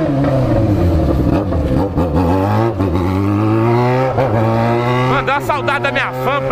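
A motorcycle rides over a speed bump, its engine a steady, close drone that rises and falls in pitch, broken by a few brief jolting knocks.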